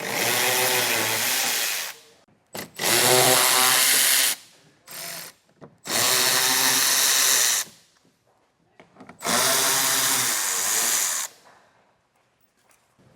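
Power tool driving out four bolts on a 2021 Jeep Grand Cherokee's inner wheel well liner with an 8mm socket, loud whirring bursts of about two seconds each, separated by short pauses, with no talking.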